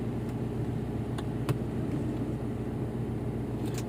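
Vehicle engine running after starting, a steady low rumble close by with a few faint clicks and knocks on top, no talking.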